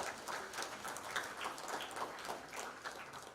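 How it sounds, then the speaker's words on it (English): A symposium audience in a hotel hall keeps up a moderate patter of applause for award recipients, steady and continuous with scattered sharper claps. "Resounding applause for the recipients"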